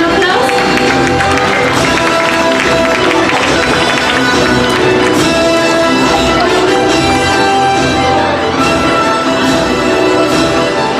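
A circus audience applauds and cheers loudly and continuously. The dense clapping is mixed with crowd noise and other sound throughout.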